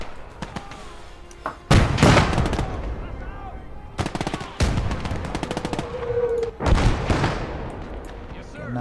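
Heavy gunfire in a World War II battle video game, with machine-gun bursts and loud shots clustered in several waves over a constant background battle din, and a voice speaking in places.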